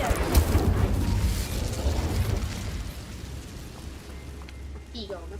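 An Incendio fire spell cast in Hogwarts Legacy bursts with a loud whooshing flare that settles into a crackling, hissing burn and fades over a few seconds.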